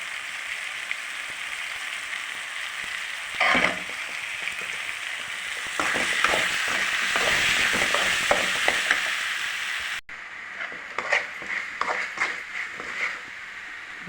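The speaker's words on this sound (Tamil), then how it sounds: "இப்போ தக்காளி மசாலா எல்லாம் வதங்கிடுச்சு." Tomato masala with chili powder frying and being stirred in a pan for a Tamil kulambu, a steady close sizzle with scraping stir strokes that bunch up in the middle, then a sudden quieter stretch of lighter sizzling and clinks.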